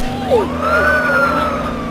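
A police siren in a video game wails continuously and loudly, its pitch sweeping up and then holding over a steady low engine-like drone, with no talk over it.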